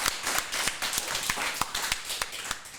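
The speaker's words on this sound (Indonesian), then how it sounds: "Tepuk tangan dulu." A small audience at a podcast recording claps. Distinct sharp hand claps land in a quick, roughly even rhythm over a soft bed of scattered clapping, fairly near and with no speech on top.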